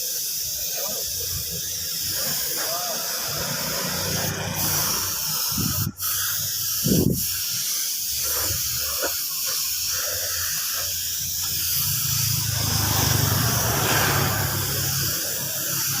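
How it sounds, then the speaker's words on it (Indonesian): A spray gun lays clear coat over a red candy-painted motorcycle body panel, a steady hiss running through the whole stretch and swelling toward the end, with a few brief clunks and knocks in between. "seperti ini kita ratakan semuanya, kita semproti clear"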